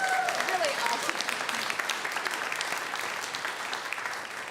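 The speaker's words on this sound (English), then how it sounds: "if you guys want to give her a round of applause, I think that would be just really awesome." A church congregation at a Sunday service applauds warmly and continuously in a hall, a dense steady patter of many hands that fades slightly toward the end, with a brief voice audible at the start.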